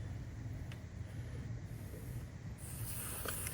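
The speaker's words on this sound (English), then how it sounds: "You can hear the air when it pushes in the Schrader valve enough." Air hisses through the Schrader valve of a 185/65 15-inch passenger car tire as a Dewalt DCC020IB 20V cordless inflator hose is threaded on, a steady close rushing hiss that grows brighter near the end.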